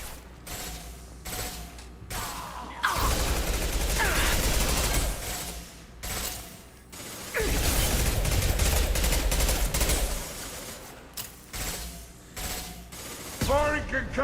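Heavy gunfire and concussive blasts from Mass Effect combat, with two sustained loud bursts of shooting separated by quieter gaps full of clanks and mechanical clatter.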